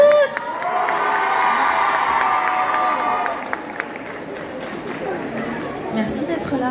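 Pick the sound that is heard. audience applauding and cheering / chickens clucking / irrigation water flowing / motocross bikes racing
audience applauding and cheering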